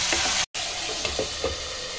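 Spice masala with tomato paste sizzles in a pan for a rohu fish curry. The close, steady hiss breaks off briefly partway through, and a few soft stirring knocks follow.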